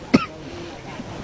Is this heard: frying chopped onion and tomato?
no